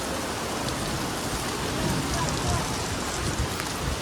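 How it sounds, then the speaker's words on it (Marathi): Heavy rain falling outdoors by a parked motorbike, a loud, dense, steady hiss of drops hitting surfaces that fills the whole stretch evenly and close by, with no talk over it. "पाऊस लय जोरात येतो"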